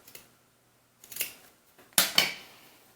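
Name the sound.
scissors cutting off frayed threads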